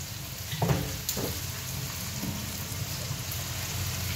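Margarine sizzles and crackles steadily in a pan during cooking of sopas, with a few brief clatters of stirring near the start and no talking.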